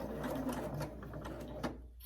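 A domestic sewing machine running a short back stitch, a quiet rapid mechanical whirr and needle clatter that chugs steadily for about two seconds before stopping abruptly, close by with no talking.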